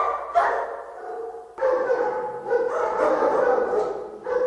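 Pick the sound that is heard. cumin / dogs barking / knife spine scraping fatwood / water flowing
dogs barking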